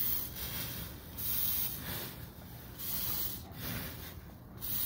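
WD-40 spray can test fired as a flame starter, giving a steady hissing, roaring spray in several sustained bursts with brief dips between them, fairly loud and close.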